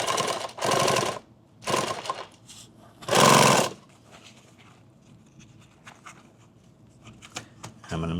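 A sewing machine stitches a mini kit bag in three short loud bursts, then quiet handling and faint rustling of the fabric as the work is adjusted.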